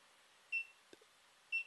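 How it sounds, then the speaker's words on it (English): Two short electronic locate beeps from a GoPro HD Hero 3 Black camera about a second apart, fairly faint, with a small click between them in a quiet room. "And that beep will lead you to GoPro."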